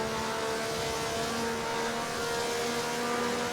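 A race car engine at the Monza circuit in Italy roars loudly and continuously at high revs under acceleration, a dense, sustained drone heard from the cockpit with no talking.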